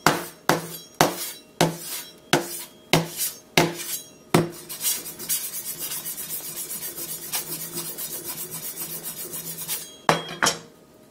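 A knife repeatedly strikes and scrapes across an iPhone 6 in quick chopping strokes, followed by a steady gritty rubbing, then a few more sharp hits.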